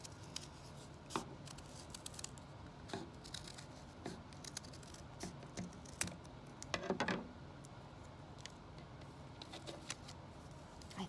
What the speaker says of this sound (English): I need to cut on this side now.